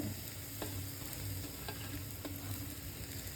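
Raisins sizzle in hot ghee, cooking for nombu kheer. A spoon taps the pan a few times while they are stirred, and the sizzle stays faint and even.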